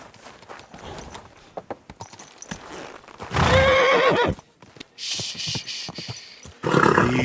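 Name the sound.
horse whinnying and hooves, from video game Kingdom Come Deliverance 2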